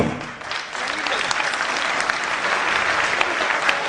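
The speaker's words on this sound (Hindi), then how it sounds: "तालियां बजती रहनी चाहिए दोस्तों" Audience applause at a human rights protection council program, a dense, steady wash of many hands clapping throughout, fairly loud and continuous with a slight dip near the start.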